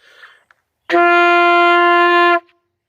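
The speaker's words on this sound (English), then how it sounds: "The high D, well, middle-ranged D of the alto sax." A single sustained alto saxophone middle D held steadily for about a second and a half, clear and loud, preceded by faint breath and key noise.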